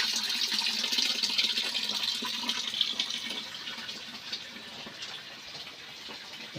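Water pours steadily from a village water spout in a rural Indonesian setting, a close, continuous splashing flow that eases slightly toward the end.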